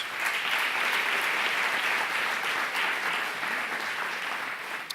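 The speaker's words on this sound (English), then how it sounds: "Please give them a round of applause." A large audience at an evening city State of the City event applauds steadily and loudly throughout, a dense, sustained wash of clapping with no pauses.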